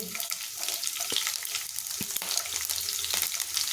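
Dry and green chillies fry in hot oil with a constant loud crackling sizzle. Occasional soft knocks and stirring sounds from the pan cut through it.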